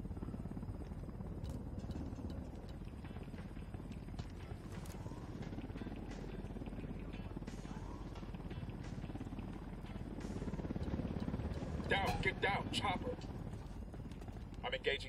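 A helicopter in the video game Ghost Recon Wildlands makes a steady rotor drone throughout, with gunfire-like clicks and clatter layered on top, growing louder toward the end.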